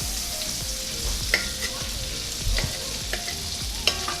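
Eggs frying in a pan of olive oil topped with butter, being broken up and stirred: a steady close sizzle with scraping utensil strokes and a few sharper clicks against the pan.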